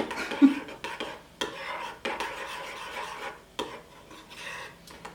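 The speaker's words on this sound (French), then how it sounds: "Donc je vais mélanger un peu ça." A spoon scrapes and clinks in a bowl while mashing banana into a face mask mixture, in a series of close, uneven strokes separated by short pauses.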